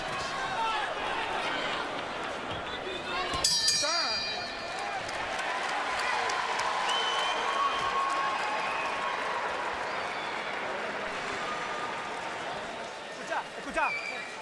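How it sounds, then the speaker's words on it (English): A boxing arena crowd at the Kelly Pavlik vs Sergio Martinez fight cheers and applauds, a sustained wash of clapping and shouting with a sharp burst near the start and commentators talking over it. "The crowd senses that Pavlik is getting himself back into the fight"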